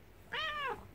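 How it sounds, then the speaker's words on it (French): A pet cat gives one short, clear meow indoors, close and distinct against a quiet background. "regarde-la, elle fait miaou miaou"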